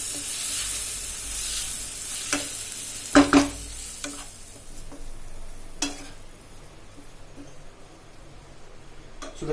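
Fried onions and diced tomato stirred in a pan over a low flame give a steady soft sizzle, with a few sharp scraping clacks of the spoon near the start and in the middle.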